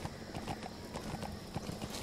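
A horse wearing battle gear clip-clops along in Metal Gear Solid 5: The Phantom Pain, a quick, even run of soft hoofbeats heard fairly faintly against a low game background.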